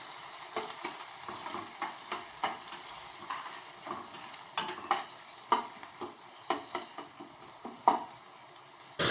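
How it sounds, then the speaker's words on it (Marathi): Tomatoes sautéing in a pan over high heat give a gentle, constant sizzle, with irregular scrapes and taps of a spoon stirring that grow sharper toward the end, close and quiet, with no talk. "थोडासा फुल गॅस करायचा आणि चांगलं असं टोमॅटो परतून घ्यायचं."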